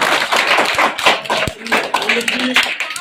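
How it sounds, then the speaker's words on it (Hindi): An audience at a local gathering claps hands in a steady patter of applause, with someone speaking over it. "ताली बजाइए।"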